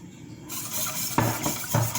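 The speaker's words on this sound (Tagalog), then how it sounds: "Whisk lang natin siya hanggang sa maging thickened na siya." A whisk stirs bechamel sauce seasoned with salt and nutmeg in a pan, giving a steady scraping swish with a few sharper clinks of metal against the pan.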